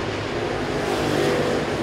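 Race cars roar around an oval track during the Southern 100 feature at Southern Raceway, a continuous dense engine drone heard from a distance with no voices over it.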